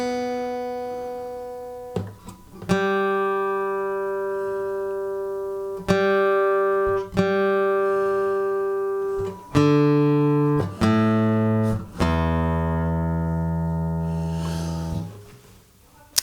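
Single acoustic guitar strings are plucked and left to ring, again and again, settling toward pitch during tuning, with short pauses and small slides between notes. No voices.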